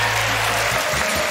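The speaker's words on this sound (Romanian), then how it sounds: "Domnilor și domnilor, aplauze furtunoase" Audience applause at a live Romanian comedy roast, a steady dense wash of clapping filling the short stretch, with a low hum underneath.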